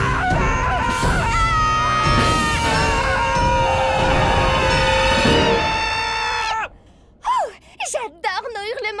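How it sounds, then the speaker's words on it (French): Cartoon characters scream and wail loudly together in a long, sustained, high-pitched outburst, then it breaks off into short gasping squeals and voices. "J'adore nos hurlements du matin."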